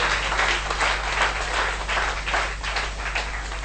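A church congregation bursts into sustained applause, many hands clapping together loudly and steadily without pause, the dense clatter filling the room throughout.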